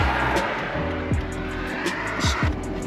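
BMW E46 tires squeal and skid through a run of sharp, loud chirps while the engine rises and falls in pitch nearby, with rubber smoking off the wheels.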